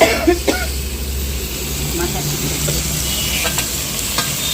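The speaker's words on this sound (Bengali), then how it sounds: "একটু জল দিয়ে ভালো করে কষিয়ে নেব বেগুনগুলো" Brinjal being stir-fried with a little water in a pan, a steady close sizzle with scraping stirs throughout, a cough or voice briefly near the start.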